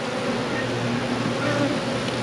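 Honey bees buzz steadily around a newly set-up farm apiary hive during an inspection, a dense, continuous drone close to the listener with no talk over it.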